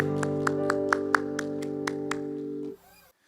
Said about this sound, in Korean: 우리 박수로 하나님께 영광의 박수 올려드리기 원합니다